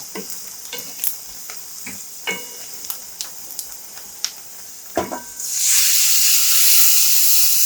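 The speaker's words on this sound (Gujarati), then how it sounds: "છાશને આપણે આની અંદર એડ કરી દઈશું" Buttermilk mixed with urad dal batter is poured into a hot pan of tempered spices for Chhattisgarhi dubki kadhi, with scattered stirring clicks before a sudden loud, sustained sizzle and hiss as the liquid hits the pan.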